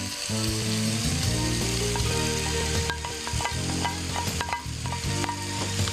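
Cooked pasta tossed with canned tuna in a frying pan, stirred steadily with a continuous loud sizzle and scraping utensil clicks throughout, no voices.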